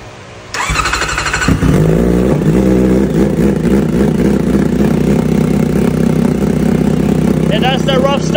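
Kawasaki ZX-4RR motorcycle engine firing up roughly on its first start after a brief crank, then settling into a loud, steady, slightly uneven idle close by, with a voice speaking briefly near the end.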